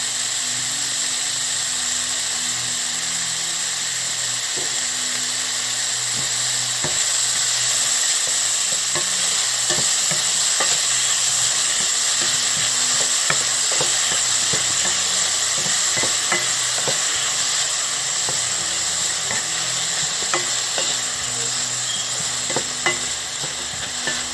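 Steady sizzling of onions frying in a pan, with occasional clinks and scrapes of a spoon stirring, close and continuous without talk.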